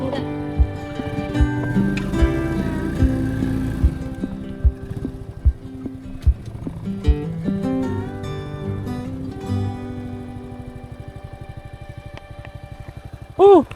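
A 1989 Honda Astrea Prima motorcycle labours up a steep hill, its engine droning loudly with sharp knocks and clatter, while people talk over it.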